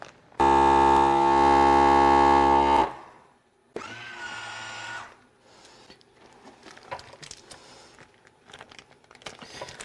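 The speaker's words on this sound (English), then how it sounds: "I'm going to vacuum seal this guy up for the night." A vacuum sealer pulls air from a FoodSaver bag holding a marinated Cuban mojo pork picnic shoulder: a loud, steady motorized buzz for about two and a half seconds, then a short pause, a second quieter whirring burst, and soft bag rustling afterwards.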